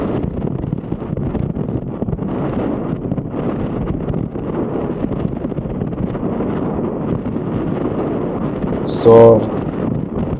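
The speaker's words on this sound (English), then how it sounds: "the sound that you're hearing is because of the wind. It's pretty windy here." Strong wind buffeting a microphone on a bicycle ride along a windy road near a bridge, a steady loud roar throughout, with a brief word spoken near the end.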